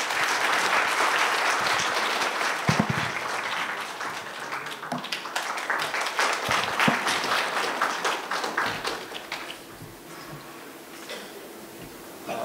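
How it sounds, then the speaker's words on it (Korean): An audience at an academic symposium gives a long round of applause to welcome a professor to the stage. The clapping is dense and close at first, then thins into scattered claps and fades toward the end. "이중원 교수님을 큰 박수로 모시도록 하겠습니다."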